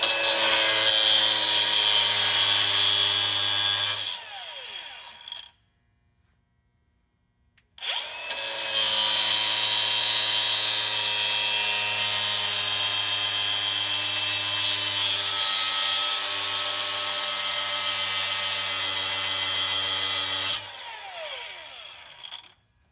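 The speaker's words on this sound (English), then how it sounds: "so we're just gonna grind it off" An angle grinder cuts off the spare tire holder on a 1997 Ford F-350 dually 7.3 Powerstroke diesel with a loud, steady high-pitched whine. The grinding runs for long stretches around a short pause, with no voices.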